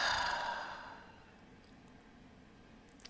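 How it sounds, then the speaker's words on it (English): A person takes one deep, audible breath in, holds it briefly, then exhales softly, close and quiet with no talking. "take a deep breath in. Hold it for a second and then exhale."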